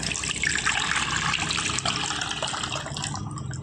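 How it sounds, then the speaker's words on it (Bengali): Green coconut water poured out of the cut coconut, a continuous close splashing, gurgling stream of liquid lasting a few seconds with no voices. "ডাবটার জলটা কিন্তু ঢেলে নেব"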